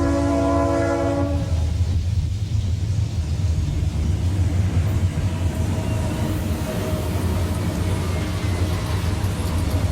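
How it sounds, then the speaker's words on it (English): A westbound Pittsburgh to St. Louis freight train crosses a Norfolk Southern railroad diamond, its horn sounding briefly at the start before a loud, continuous heavy rumble of wheels and cars rolls on nearby. "A westbound Pittsburgh to St. Louis freight pounds across the Norfolk Southern Diamond."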